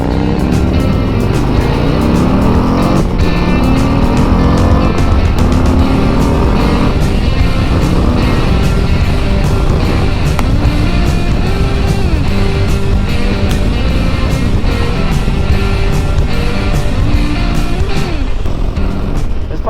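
A 2021 Harley-Davidson CVO Road Glide motorcycle accelerates hard on an open ride. The engine roars loud and close, climbing through several rising gear pulls with constant rushing wind.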